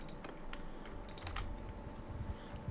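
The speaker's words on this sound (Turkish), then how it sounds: "Eğer mouse sesinden, klavye sesinden rahatsız olursanız bana söyleyin." Computer keyboard keys and mouse buttons click in a quiet room during PC play of Mount & Blade II: Bannerlord, with irregular typing taps and clicks heard fairly close under a low background hiss, with no talking.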